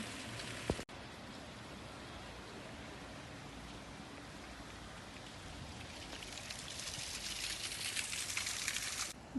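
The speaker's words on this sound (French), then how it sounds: "Et il s'est mis à pleuvoir." Steady rain hisses across the city of Bergen, a sharp knock near the start, the downpour growing louder and denser toward the end.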